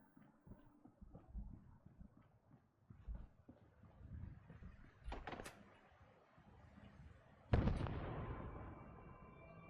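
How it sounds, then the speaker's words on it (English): An explosion in the video game Fallout: London: several muffled booms and thuds build up and end in one sharp, loud blast near the end, followed by ringing rumble. "Something's exploding. That can't be good."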